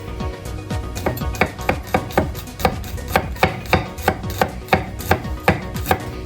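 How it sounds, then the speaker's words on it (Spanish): A knife chops garlic finely into small cubes on a board, with a steady rhythm of about a dozen crisp, evenly spaced taps, close and clear with no talking. "El ajito, que lo vamos a cortar también todo en cuadradito bien finito."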